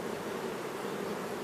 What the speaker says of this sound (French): Fais gaffe de ne pas écraser d'abeilles